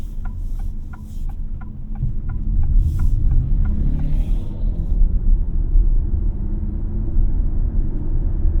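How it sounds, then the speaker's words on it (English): A 2024 Alfa Romeo Tonale Ti plug-in hybrid running on its electric motor gives a steady low hum and road rumble inside the cabin, with a short train of soft ticking chimes early on that then fades out. "this is the electric motor doing all the work right now, and it propelled it up pretty nicely"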